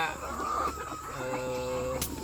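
Chickens let loose to roam while their coop is cleaned cluck and call close by, with short tonal squawks over a steady low farmyard hum.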